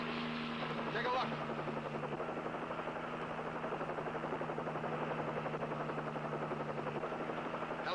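A police helicopter flies overhead with a steady, droning rotor and engine hum at an even level. The tone shifts slightly around the midpoint.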